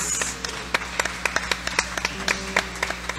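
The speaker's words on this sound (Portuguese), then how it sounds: "Aplauda bem forte o nome do Senhor." A church congregation at a family worship service claps in a steady rhythmic beat, crisp, separate hand claps repeating several times a second at moderate volume, with a faint hum beneath.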